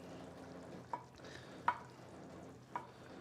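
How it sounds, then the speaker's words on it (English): Pasta sauce poured and mixed into baking dishes for baked ziti, a faint, steady wet stirring with three sharp clinks of a utensil against the dish, no talking. "You're going to just pour the sauce right into both of these dishes"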